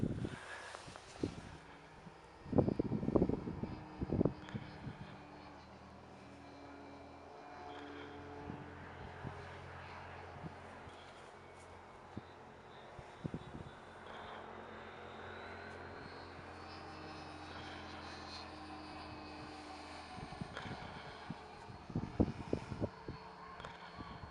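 A large Carf 330sc hybrid RC model airplane with a belt drive system flies past a runway, its propeller engine droning at moderate distance, swelling and fading, with occasional louder bumps and clatter nearby.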